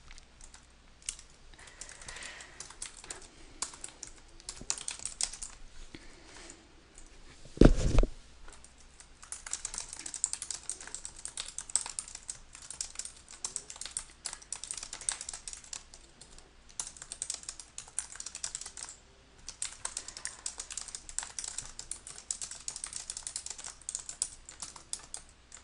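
Steady typing on a computer keyboard, a continuous run of quick clicking keystrokes at close range with one louder thump partway through, no talking.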